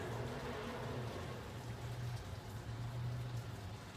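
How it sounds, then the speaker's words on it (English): Rain falling outside on a rainy day makes a steady, even hiss with a low background hum underneath, continuous and unbroken, with no talking. "But yeah, it's still raining outside."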